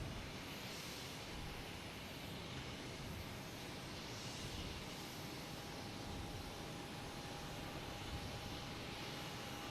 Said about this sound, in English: next takeoff lined up is a NetJets heading to, we'll say LaGuardia